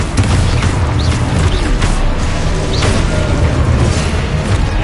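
Spell explosions from Confringo and Exposo cast in Hogwarts Legacy, dense booming blasts and crackling bursts rolling continuously over a loud, busy game soundscape with no speech.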